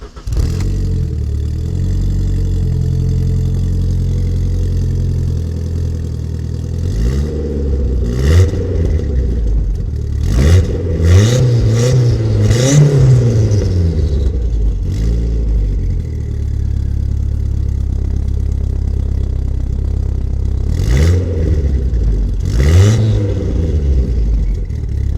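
A 1990s Ford Fiesta RS Turbo engine idles with a deep burble, then is blipped into several quick revs that rise and fall, with short bursts near the end.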